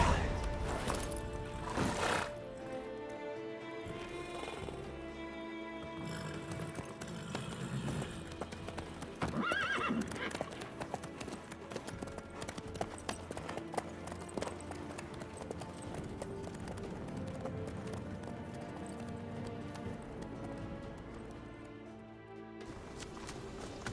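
Horse hooves clip-clopping steadily with a whinny in The Witcher 3: Wild Hunt, the rhythmic hoofbeats running beneath game music and spoken dialogue throughout.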